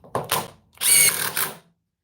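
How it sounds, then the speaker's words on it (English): DeWalt impact driver fires two short bursts of rapid hammering as it drives a fastener home, loud and close, then stops, with no talk. "So it impacted a couple of times before it set."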